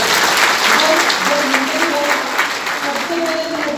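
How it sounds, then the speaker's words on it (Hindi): Loud, sustained audience applause at a Royal Library gathering in Mumbai, dense continuous clapping from a crowd throughout with no talk over it. "एक बार जोरदार तालियां"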